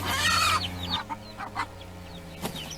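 A hen clucks sharply and loudly up close while guarding her chicks, then several shorter, softer clucks and calls follow at irregular intervals.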